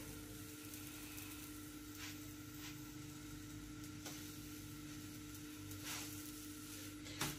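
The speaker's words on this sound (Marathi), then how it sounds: "तेल चपातीला लावते जरा मऊ होते चपाती." A chapati brushed with oil sizzles on a hot pan, a faint, steady fry hiss with a few soft clicks and a low hum beneath, no voices.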